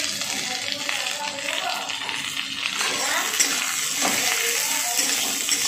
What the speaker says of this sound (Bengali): এবারে কেটে রাখা পেঁয়াজ দিয়ে দিচ্ছি